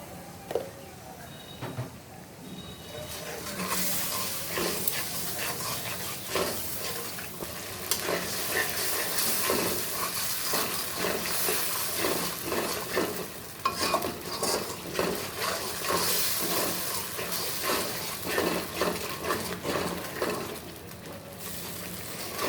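Salted spice paste for a spicy koi fish curry fries in oil while a spoon stirs and scrapes the pan continuously, producing a busy close sizzle with rhythmic scraping throughout.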